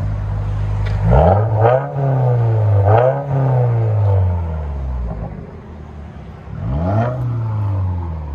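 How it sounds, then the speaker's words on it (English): A straight-piped 2021 Subaru WRX turbo engine revs up in three loud, close swells from a deep rumbling idle, each climbing and falling back, with a brief turbo whoosh at the peaks. "Hear the turbo a little bit."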